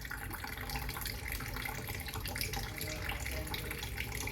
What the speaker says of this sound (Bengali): ভরার আওয়াজ শুনেই বোঝা যায় যে জলটা ভরে গেছে